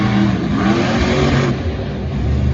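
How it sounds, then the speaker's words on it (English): A struggling Monster Jam monster truck engine at a stadium show in Foxborough roars and revs loudly up close, its rough, uneven note wavering and dipping midway before surging again. "Oh, listen to that motor. That is not healthy at all."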